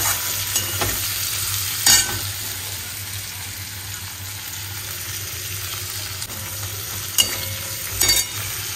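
Marinated chicken for biryani sizzles in a pot and gets stirred, a steady close frying hiss broken by a few scraping clatters of the spoon against the pot, with no talking.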